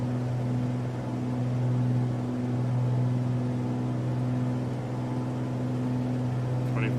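A light aircraft engine in Microsoft Flight Simulator 2020, throttled back to about 2,400 RPM in level cruise, gives a steady, even drone with a strong low hum that holds unchanged throughout.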